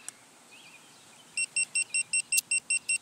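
A car alarm system's paging remote sends out a fast run of about eight short, evenly spaced high beeps after a quiet moment, close and clear with no talking.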